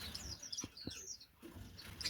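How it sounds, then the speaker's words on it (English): A cock finch in a backyard aviary birdshed sings in short, bright chirps and tweets, fairly faint against a low background rumble, with a couple of brief knocks partway through. "That is a cock bird there. That's just been singing."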